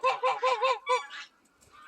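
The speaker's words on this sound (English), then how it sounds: "he is a fine specimen of a Pomeranian goose" A Pomeranian goose gives about six loud, close, nasal honks in quick succession, then falls quiet.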